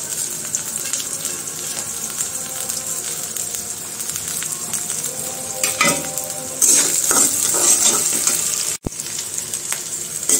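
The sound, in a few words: chopped garlic frying and being stirred in a pan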